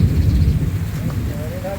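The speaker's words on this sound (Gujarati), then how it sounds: "આજે મેઘરાજા મહેર કરીને વરસી રહ્યા છે તે આપ જોઈ શકો છો" Heavy monsoon rain pours down during the Magha nakshatra rains, a loud, dense and steady roar of rainfall close by with a low rumble underneath.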